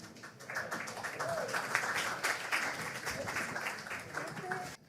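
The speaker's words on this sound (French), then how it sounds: "Double dose d'applaudissements" Applause from an audience welcoming presenter Marc-Antoine Tourville at a talk on mental health and student struggle, a steady spread of clapping of moderate loudness that stops abruptly at the end, with some voices mixed in.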